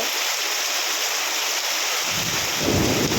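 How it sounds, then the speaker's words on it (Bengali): Heavy rain pours down at night during flooding in Lakshmipur, a loud, steady hiss of water. A low thunder rumble swells in near the end. "আপনারা সাউন্ড পাচ্ছেন বৃষ্টির"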